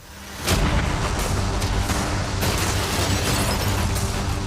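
Cannons fire at a yacht, a heavy booming blast erupting after a short lead-in, followed by sustained rumbling, crackling bursts and a few further sharp pops over several seconds.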